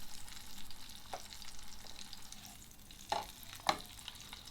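A bone-in duck breast sears in a pan with a soft, faint, steady sizzle, and a few sharp clinks or pops stand out near the end.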